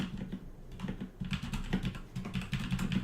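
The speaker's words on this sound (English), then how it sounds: "Sorry if I'm typing." Steady, close typing on a computer keyboard, with quick irregular key clicks that run throughout and no voices over them.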